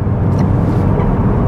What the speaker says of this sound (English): it's quite a throaty engine note